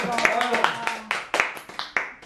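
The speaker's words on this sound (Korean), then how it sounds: "박수 한번 해드릴까요?" A handful of sharp, separate hand claps ring out at a divorce lawyer's talk, spaced unevenly and mixed with voices speaking at the same time.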